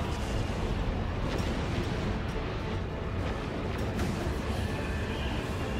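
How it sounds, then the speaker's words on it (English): Singularity ability effect in the Warhammer 40,000 strategy game Dawn of War 2, a dense, roaring rumble with crackling bursts that stays loud and steady throughout, heard alone without talk. "That's a singularity."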